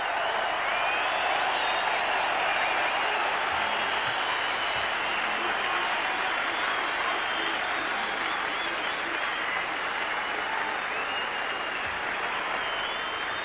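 Big football crowd at an AFL match between the Adelaide Crows and Hawthorn applauding as one, a vast distant-sounding roar of clapping and crowd noise that rolls on steadily and loudly throughout.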